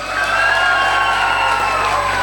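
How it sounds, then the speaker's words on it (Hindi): An audience at a seminar's evening lottery draw cheers and applauds a winner, a dense and loud crowd roar that holds steady and continuous for the whole moment. "उससे पहले तालियां बजा दो एक बार जोरदार"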